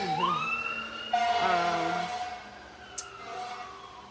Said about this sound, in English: And those sirens.